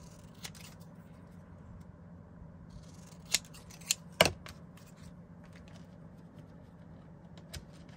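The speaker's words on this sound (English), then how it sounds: "and then trim the white portion off of this." Scissors snip through card paper, trimming off a white border for a handmade card: a few sharp, close cuts spaced apart against a quiet room hum, with no talk.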